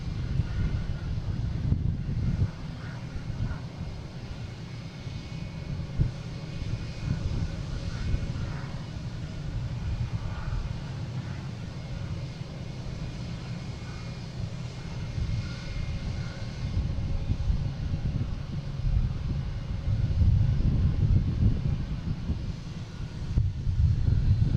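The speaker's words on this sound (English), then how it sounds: "next taking off, we have a JetBlue heading to Traverse City in A320" JetBlue Airbus A320 airliner taking off at Boston Logan, a loud sustained low engine roar heard from outside with wind buffeting the microphone, swelling toward the end.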